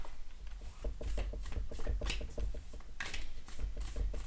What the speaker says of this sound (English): So we'll give them a good old casino shuffle.